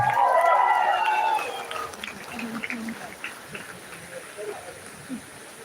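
Applause from a convocation audience, a steady wash of many hands clapping that fades to a softer patter, with a voice speaking over it at the start.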